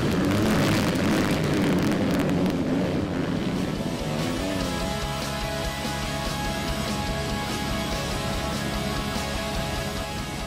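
A pack of A grade 250cc four-stroke dirt bikes at a junior motocross round roar off the start line together, a loud, dense, continuous engine drone that thins slightly as they pull away.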